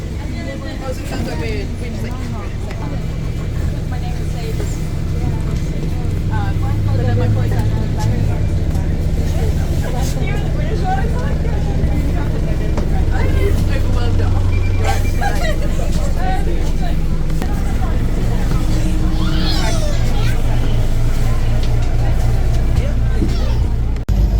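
Steady low engine drone and road rumble from inside a London double-decker on route 533 toward Castleknock, with faint background chatter among passengers, continuous and fairly loud throughout.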